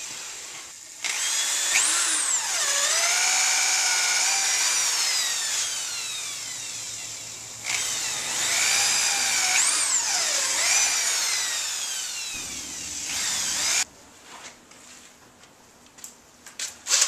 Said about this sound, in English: Now I'm going to take the screws and just tighten them up, going right into the pre-drilled holes